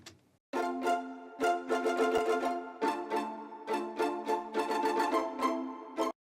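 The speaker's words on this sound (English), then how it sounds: "On top of that, we have some strings." Synth strings doubling a chord progression an octave higher, entering after a short pause and playing a steady run of repeated, moderately loud chords with rhythmic articulations.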